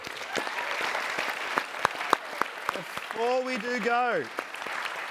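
An evening panel audience claps for the panellists: dense, steady applause runs through the clip while a voice speaks over it toward the end.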